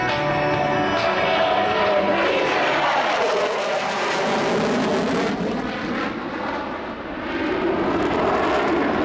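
An F-16 jet at an air show, flying the downwind leg of the landing pattern, roars steadily overhead, loud and broad, the engine noise swelling and fading slightly with no talk over it.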